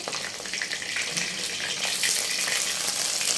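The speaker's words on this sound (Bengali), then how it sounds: "তো দেখতে পাচ্ছ মাছটা কিন্তু আমার এক পিঠে ভাজা হয়ে গেছে।" Fish frying in oil in a pan for a Bengali yogurt fish dish, giving a steady, close hiss that runs continuously and grows slightly louder toward the end, with no talking.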